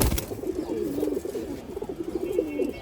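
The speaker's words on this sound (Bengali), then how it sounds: "খুব সুন্দর একটা কবুতর" Cooing from a pigeon kept in a Bangladeshi home loft, a steady throaty murmur of repeated coos rising and falling close by, continuous for a few seconds with no talk.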